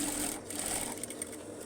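A sewing machine stitches steadily while sewing the flap of a trouser back pocket, a continuous close mechanical whir and patter at moderate volume with no speech.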